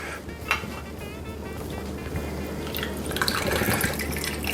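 Bourbon poured into a measure for a Bourbon Breeze cocktail, a soft, close liquid trickle with light drips that runs steadily for a few seconds, with no talking.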